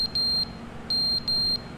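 A fire alarm in the video game The Stanley Parable: Ultra Deluxe gives shrill, piercing electronic beeps in short pairs separated by a brief gap, clean and loud over a low hum, with no talk.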